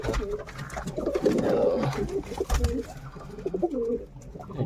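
Pigeons coo in short, throaty, repeated bursts close by, with a few rustles between calls.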